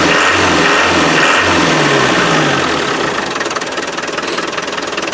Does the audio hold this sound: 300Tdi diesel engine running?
yes